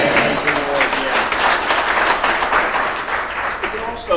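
A church congregation claps together in loud, sustained applause during morning worship, dense and even throughout, with voices mixed in.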